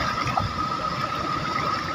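Water rushes loudly and continuously through the Thotapalli reservoir dam barrage in an unbroken, dense roar. It is close and steady, with no voices heard.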